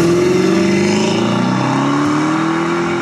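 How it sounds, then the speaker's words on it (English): A Mopar car engine revs loud and close, its deep rumbling note climbing steadily in pitch with a throaty, continuous roar throughout. "You close your eyes and that's every single Mopar out there."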